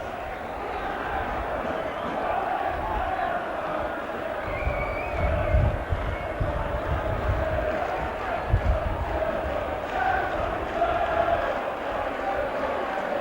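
A big crowd of Warrington rugby league fans roars steadily as their side scores a try against Oldham, a dense, sustained cheer with a commentator talking over it.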